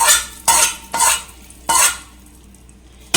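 A spoon stirring hot tempering oil into curd rice, three or four quick, close scraping strokes against the vessel in a loose rhythm, followed by a quieter pause, with no voices.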